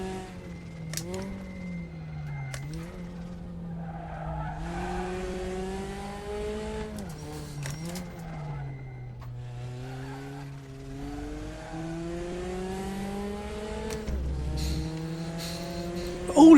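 A Porsche race car in the Raceroom sim racing game holds a steady engine drone with upshifts and downshifts rising and falling through a lap, with brief tire squeal and no voices.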